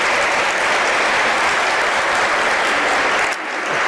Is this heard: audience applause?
yes